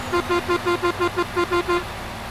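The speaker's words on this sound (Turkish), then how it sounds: "Kornamız bu kadar. Havalı korna seçeneği yok." A Neoplan Starliner bus horn in Euro Truck Simulator 2 honks about ten short, evenly spaced times over a low engine hum.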